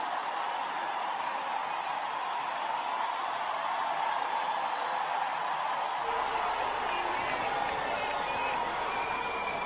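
A stadium crowd in a cricket video game, Sri Lanka vs Pakistan at the 2015 World Cup, keeps up a steady, dense roar of cheering that holds at an even level throughout.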